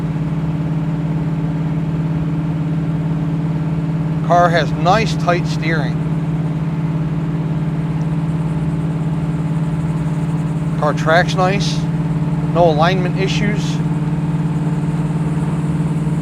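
A 1967 Chevrolet Camaro convertible rolls along with its engine giving a steady, low droning hum, while someone talks over it now and then.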